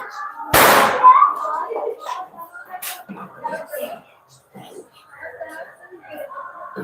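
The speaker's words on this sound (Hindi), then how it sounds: "बच्चे, आज खूब अंधेरा हो रहा है, पटाखा जला रहे हैं सब बच्चे।" A sharp, loud firecracker burst near the start, then a few fainter pops, with people talking and murmuring throughout, as children set off firecrackers after dark on Diwali in India.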